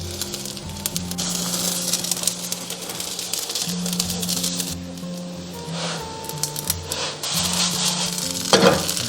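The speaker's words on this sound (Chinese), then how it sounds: "平底锅不用倒油，直接下入牛肉饼， 小火煎" A beef patty sizzles in a dry, unoiled pan over low heat, with a steady crackling fry, occasional scraping and handling sounds, and a low background hum.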